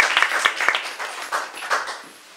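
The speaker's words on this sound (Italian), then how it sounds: "Facciamo un applauso, lo ringraziamo." Scattered clapping from a small audience at a conversation event, with sharp separate claps bunched together that thin out and fade over a couple of seconds.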